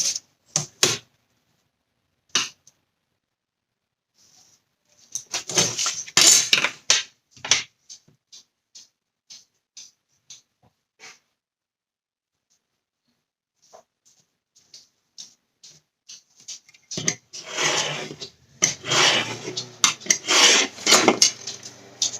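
Paper being cut for a handmade mini album: sharp dry clicks and short scraping strokes come in scattered bursts between silent gaps, close and crisp, with a busier cluster of cuts near the end.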